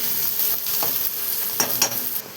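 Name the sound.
stirring masala into ridge gourd and dal curry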